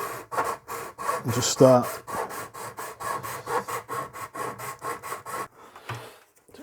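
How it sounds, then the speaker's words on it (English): A hand file works a bevel along the edge of an Amiga 500 Plus part in steady, close back-and-forth strokes, repeating evenly for several seconds, with a few brief spoken words early on. "So you can see now it's getting a little bevel on the edge there."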